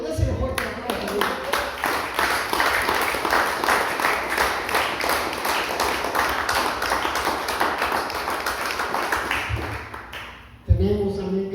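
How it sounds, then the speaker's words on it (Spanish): A congregation claps loudly and steadily during a church service for about ten seconds, dense rhythmic applause that fades out before a voice resumes. "Déselo fuerte aplauso a Dios"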